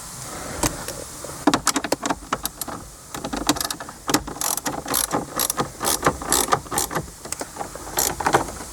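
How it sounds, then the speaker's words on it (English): Ratchet wrench removing fasteners during a performance pack gauge installation in a car interior, quick bursts of close clicking ratchet strokes repeating in uneven runs, with brief pauses between turns. "Grab my wrench."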